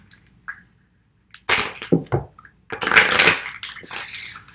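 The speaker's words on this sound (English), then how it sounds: "I just like to shuffle a little bit on camera." Oracle cards are shuffled close up in several quick, loud riffling bursts separated by short pauses.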